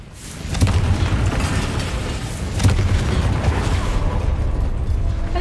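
A Confringo fire spell in Hogwarts Legacy erupts in two deep, booming explosions about two seconds apart, followed by a sustained low rumble.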